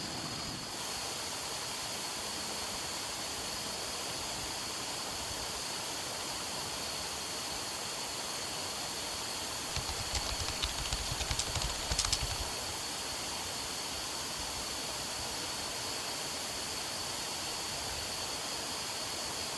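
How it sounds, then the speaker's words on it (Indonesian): Steady broadband rush of the Aek Enim waterfall, water tumbling onto fallen branches and tree trunks below; a continuous even roar throughout, with a brief burst of sharper splashing and rustle near the middle. "aliran air yang jatuh dihalangi oleh ranting kayu yang membuat aliran air tidak begitu lancar"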